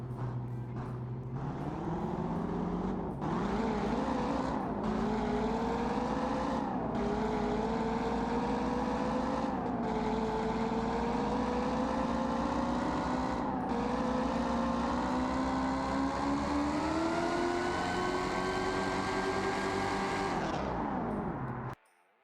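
A 1965 Mustang Boss 302 V8 in BeamNG Drive makes a full run without nitrous, droning loud and steady as it climbs through several gears, each shift briefly dropping the pitch before it rises again, then cutting off abruptly.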